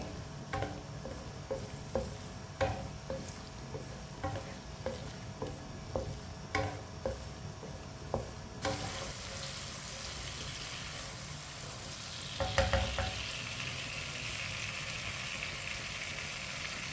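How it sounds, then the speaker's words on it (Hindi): Quiet sizzling of chopped garlic and tomatoes in a pan with regular light tapping of a utensil, then a louder scrape and stir near the end. "लहसुन, लहसुन और टमाटर को 2 मिनट के लिए पका लेंगे।"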